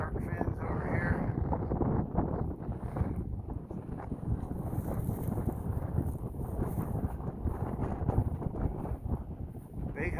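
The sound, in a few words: chilly wind blowing on a trail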